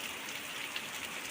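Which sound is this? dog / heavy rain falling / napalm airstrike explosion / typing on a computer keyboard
heavy rain falling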